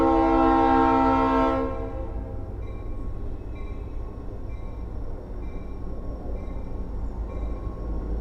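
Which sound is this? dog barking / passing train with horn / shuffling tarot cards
passing train with horn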